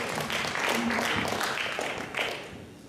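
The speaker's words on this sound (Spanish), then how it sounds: "Denle un aplauso a la palabra del Señor." A church congregation applauds together, a dense, moderately distant patter of clapping that fills about three seconds and tapers slightly at the end, with a voice faintly audible over it.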